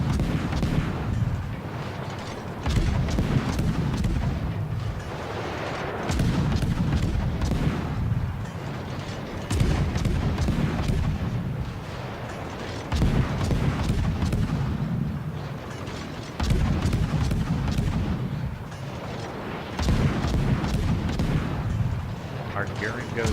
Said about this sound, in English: Firing on the Alsace, firing on the Musashi.